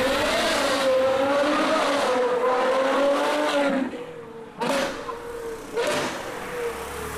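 A V12 car engine holds a steady loud howl, then cuts out abruptly, followed by short sharp revving bursts separated by gaps.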